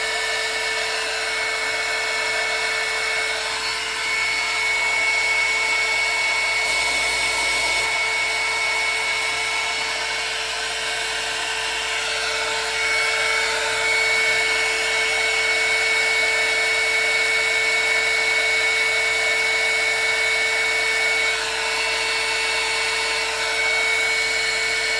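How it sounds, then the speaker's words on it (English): A hot air gun blowing continuously, a steady loud whooshing hum with a constant motor whine that holds unchanged throughout. "I hate to put this hot glue gun, this hot air gun back in that basket."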